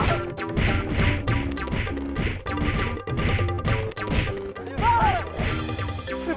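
Comic scene of a crowd beating a man mistaken for a thief, with dense repeated smacks and crashes over a loud backing music track, one blow after another with no pause.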